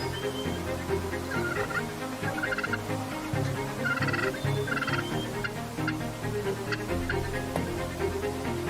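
A wild turkey tom in full strut gobbles repeatedly at close range outdoors in spring, loud rattling calls over a busy low background, with no talk.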